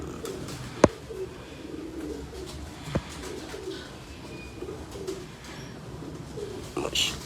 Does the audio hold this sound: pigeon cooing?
yes